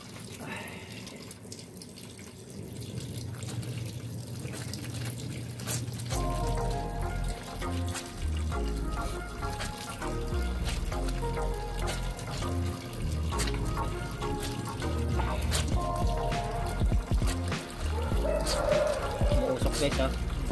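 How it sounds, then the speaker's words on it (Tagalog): Laundry being washed by hand in hot water, with running water from a tap and splashing, scrubbing and sloshing that grows busier partway through, close by, while a person talks over it at times. "Gusto lang maglaba dito guys"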